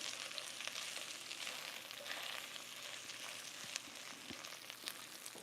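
Steady crackling sizzle of red onion, jalapeno, peppers and celery frying in a pan, continuous and close, with a few faint clicks and scrapes.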